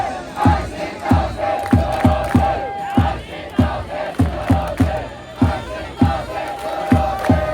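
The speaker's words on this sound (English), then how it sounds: "The away fans were yelling something similar to Hanshin Go Home." Away fans at a Hanshin Tigers baseball game in Japan roar a rhythmic chant as a large crowd, with loud, evenly spaced shouted beats repeating about every 0.6 seconds.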